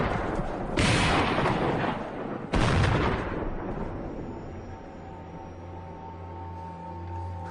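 Soldiers open fire into a cave, two heavy, loud bursts of rapid gunfire crashing close by, the second cut short, followed by a long fading rumble and echo.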